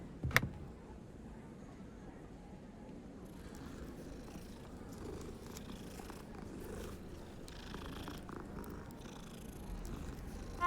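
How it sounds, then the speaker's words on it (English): A cat purring as it is petted in the Hogwarts Legacy video game, a soft continuous rumbling purr that stays steady for about ten seconds, quiet and close, with no talk. "Oh, there's a cat. Wait, I need to pet the cat"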